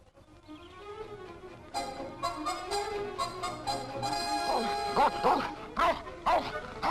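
Army guard dog barking repeatedly during guard training in 1961 Britain, close and loud, with rapid yelping barks and whimpers building in intensity.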